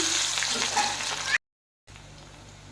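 Cumin seeds and crushed garlic frying in hot oil for a Bengali kochur loti dish, a steady close sizzle that cuts off abruptly, then a quieter low hiss resumes after a brief silence.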